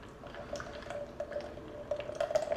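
Buttermilk pours steadily into a bread machine pan, a soft continuous liquid trickle with faint dripping that grows slightly louder toward the end, close and quiet with no talking.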